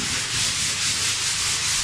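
Steady, gritty scraping of sandpaper rubbing over wood, a continuous close-up hiss that never pauses.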